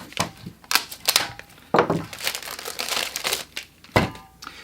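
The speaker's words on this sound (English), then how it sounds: "There's a little plastic cap that pops off." A small plastic cap is worked off a butane refill canister for a camping stove, giving a series of close crinkling, snapping plastic clicks and rustles in irregular bursts.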